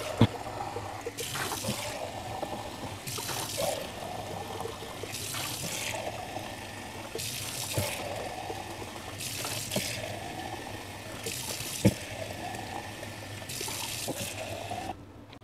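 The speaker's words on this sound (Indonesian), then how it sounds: "Karena di sini saya punyanya air keran dari pump ya, saya pakai ya." Pump-fed tap water trickles and splashes steadily into a filter container for making drinking water, a continuous near stream broken by a rhythmic pulsing roughly every second and a half, with occasional knocks.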